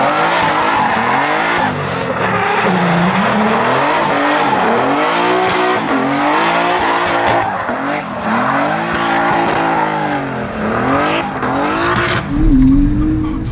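A BMW E46 drifting: loud, close engine revving that swings up and down in pitch, with sustained squealing from the spinning rear tires running under it the whole time.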